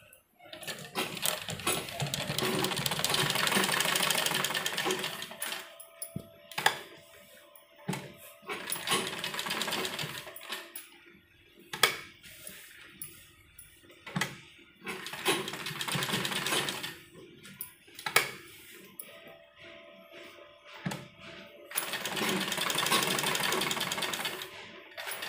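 A sewing machine runs straight stitching on a school uniform placket in several bursts of steady whirring, separated by quieter gaps with clicks and handling noises.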